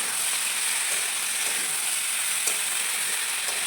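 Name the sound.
ginger and green chili paste frying in a pan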